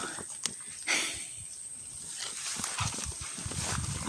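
A water buffalo walks close by, heavy hooves clopping unevenly on the ground, with scattered thuds and light background noise.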